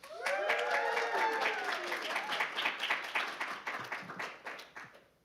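A live rally audience cheers and claps loudly for a queer poet, whoops and shouts rising over dense applause that gradually thins into scattered claps before fading out.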